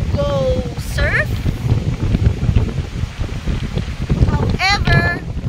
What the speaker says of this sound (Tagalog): Hangin! Bakit ang lakas mo?